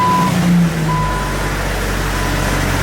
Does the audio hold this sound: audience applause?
no